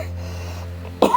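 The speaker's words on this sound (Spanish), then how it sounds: "provócala tos con fuerza" One forceful cough bursts out after a quiet stretch of low hum, loud and close, during a Christian sermon.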